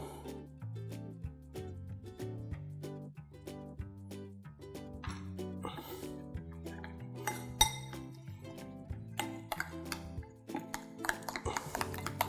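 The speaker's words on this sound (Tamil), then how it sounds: "இந்த மசாலாவை நல்லா மிக்ஸ் பண்ணியாச்சு." Ground masala paste being mixed with salt and lemon juice in a dish for tawa-fried fish, with repeated clinks and scrapes of a spoon against the dish, steady and close, over faint background music.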